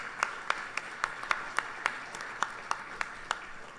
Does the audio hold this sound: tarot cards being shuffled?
no